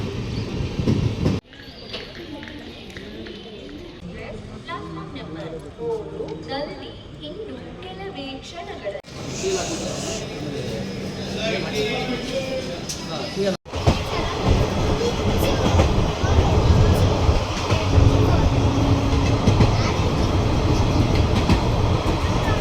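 Train at Kengeri railway station, with loud rumbling and rattling of rail cars building toward the end, heard close up amid station noise and people talking.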